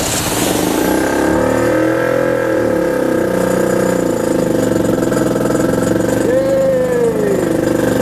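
A 1954 Elgin outboard motor with a freshly cleaned carburetor sputters and catches, then runs loud and close with rising and falling revs, while a person talks over it.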